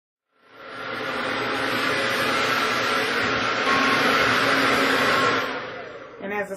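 A hair dryer with a diffuser attachment drying curly hair, starting up and holding a loud, steady whooshing roar for about five seconds before cutting off, followed by faint handling noises.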